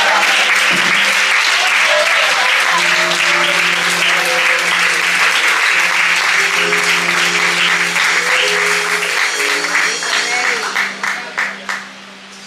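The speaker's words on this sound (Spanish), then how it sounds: "Dile este aplauso a Cristo esta mañana." Loud, sustained clapping from a large church congregation at a Sunday school evangelistic campaign service, with music and voices underneath, gradually thinning into a few scattered claps at the end.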